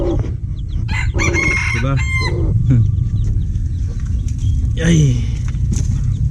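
Chickens and a rooster on a farm with chicks cluck and crow nearby, several calls overlapping over steady background noise, while a person talks briefly.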